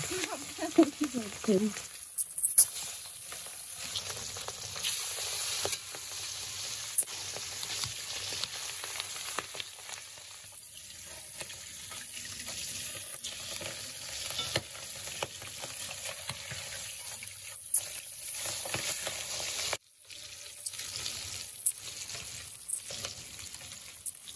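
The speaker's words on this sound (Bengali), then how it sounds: "মাছগুলো ভাজা হয়ে গেছে।" Pabda fish frying in hot oil in a pan, a steady broadband sizzle running throughout with occasional stirring clatters and faint talk in the background.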